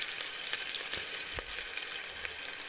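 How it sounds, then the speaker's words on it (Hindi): Chopped onions sizzle in hot oil in a home kitchen pan, a steady close hiss with faint crackles and a few soft stirring knocks, with no voices. "तेल गर्म हो चुकी है, प्याज डाल देती हूँ"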